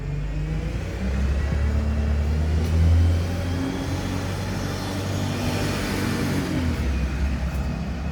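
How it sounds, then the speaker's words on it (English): A bus rumbles past outdoors on a street walk, its steady engine drone swelling briefly as it goes by, loud and close with no one talking. "oh, bus"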